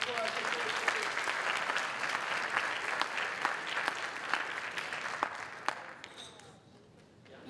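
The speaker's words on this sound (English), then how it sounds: "Give him one more round of applause." A crowd applauds steadily with dense clapping at a closing ceremony, then the clapping thins and fades toward the end.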